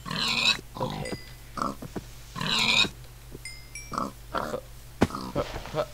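Pig grunts and oinks from the Minecraft video game, several short bursts spread across the clip over a low steady game hum, with a few faint chimes.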